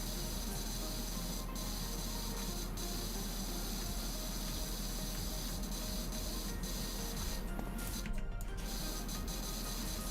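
Steady broadband hiss of a pressure washer blasting water through a turbo nozzle in PowerWash Simulator, continuous and fairly loud throughout, with a brief harsher burst near the end.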